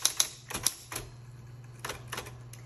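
Mechanical keystrokes from a repainted 1960s Electra 120 manual typewriter, a quick burst of crisp key strikes followed by scattered pauses and another cluster of clacks, close up and alone.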